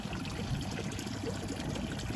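Water bubbles and trickles softly and steadily in a koi pond, a faint continuous gurgle with no voices.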